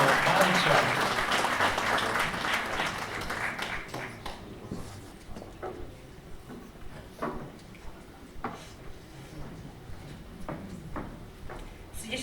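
An audience at the Dedina roka 2025 village award ceremony in Budmerice bursts into dense, loud applause that gradually thins into scattered, fading individual claps.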